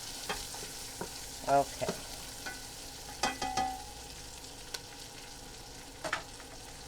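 Garlic sizzles and crackles in a hot pan while being stirred, with scattered scraping clicks and louder bursts of sizzle; a brief spoken word breaks in once.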